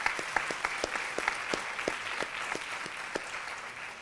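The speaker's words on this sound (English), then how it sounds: "Please give her a round of applause." An audience at a Bharathanatyam arangetram gives a round of applause for the dance teacher, a soft, distant patter of clapping with a few sharper individual claps standing out.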